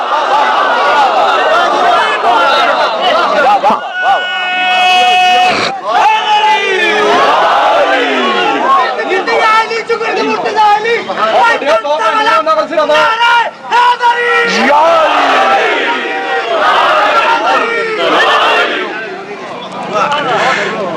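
A large crowd at a Shia religious gathering chants slogans together in loud, sustained waves of massed voices, with shouted call-and-response bursts and cheering rising and falling throughout.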